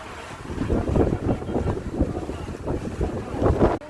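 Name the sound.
strong wind blowing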